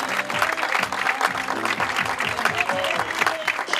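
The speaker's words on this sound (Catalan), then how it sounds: "Un fort aplaudiment per totes 3." Applause for the women's podium at a hill climb time-trial festival in Santa Fe, La Granada: steady crowd clapping throughout, dense and continuous, with a loud PA-style hum underneath.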